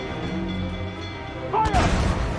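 Ship cannons fire a broadside in the Caribbean naval combat of Assassin's Creed Freedom Cry, a sudden heavy boom bursting out after a steady stretch of sea and ambient game sound, with a shouted voice just before.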